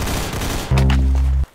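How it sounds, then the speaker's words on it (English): Shotgun fire in the Roblox game Arsenal, a rapid stream of sharp shots that gives way to a loud, sustained low blast which cuts off abruptly. "the shotgun is so bad"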